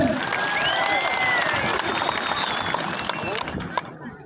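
A crowd at a kurash wrestling bout in Kukdala, Qashqadaryo, applauds in dense, steady clapping, with scattered cheers and voices mixed in; the clapping tapers off near the end.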